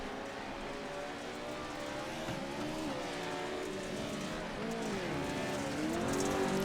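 Pro 2 Lites race trucks climb a hill at Wild West Motorsports Park, their engines whining and sweeping up and down in pitch, somewhat distant and building louder toward the end.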